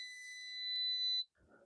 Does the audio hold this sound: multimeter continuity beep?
yes